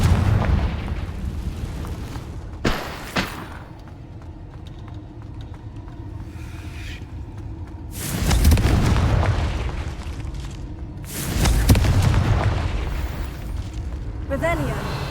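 Fire spell explosions from the Confringo charm in the Hogwarts Legacy video game, two loud broadband booming bursts about three seconds apart over ongoing game music and ambience.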